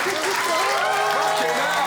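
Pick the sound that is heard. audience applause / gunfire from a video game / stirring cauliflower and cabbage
audience applause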